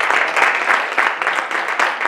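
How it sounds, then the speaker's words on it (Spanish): A conference audience in Granada applauds loudly on request, a steady broadband wash of many hands clapping with slight surges, close and dense with no other sound over it. "os pido por favor un fuerte aplauso para darle energía"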